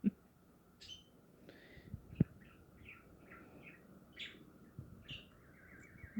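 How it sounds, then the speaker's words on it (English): A pet parrot gives a series of short, high chirps and squeaks, scattered and fairly close, over a quiet room with a few soft knocks and no talking. "You beautiful bird."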